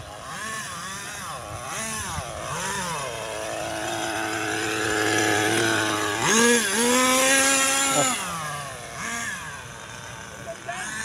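HPI 4WD RC car motor revving at a park, a buzzing whine rising and falling in pitch through several revs, loud and close, with a person talking over it.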